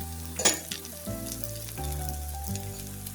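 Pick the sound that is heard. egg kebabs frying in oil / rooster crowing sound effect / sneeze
egg kebabs frying in oil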